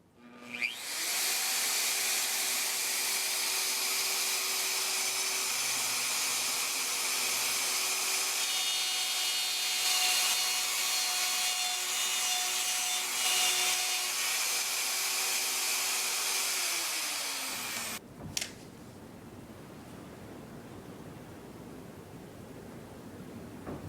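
A power tool cuts a channel into a wooden tenor guitar body, running as a steady, loud whine for about seventeen seconds before winding down and stopping, followed by quiet room noise.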